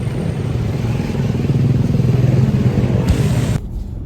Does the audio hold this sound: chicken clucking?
no